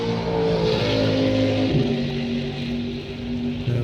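A race car runs on the wet Brands Hatch circuit during a festival, its engine a steady mid-distance drone with rising and falling tonal whine as it passes, with no voices.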